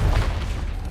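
The Confringo fire-blast spell in Hogwarts Legacy going off as a single heavy, rumbling boom that fills the short moment, loud and close, with no talking.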